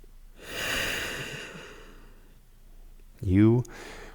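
Deep breathing during a yoga session: a long, soft airy exhale with a slightly wheezy tone, then a quiet pause and a sharp, short nasal intake near the end, close and intimate.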